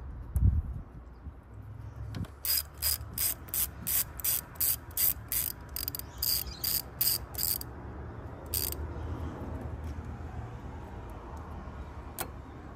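A ratchet loosens 10 mm bolts on a bracket near the thermostat housing of a Jeep Grand Cherokee EcoDiesel, giving crisp, evenly spaced clicking bursts close up, then a pause and a last few clicks.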